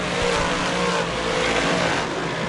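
Modified race cars racing at Merrittville Speedway, engines roaring and revving loud and close as the field charges through the turns in a short, continuous burst.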